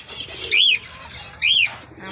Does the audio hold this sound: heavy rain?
no